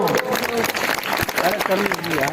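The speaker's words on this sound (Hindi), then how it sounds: "जोर से ताली बजाओ" Audience clapping during a pranayama yoga session, a dense burst of hands applauding under a voice talking over it, fairly loud and close.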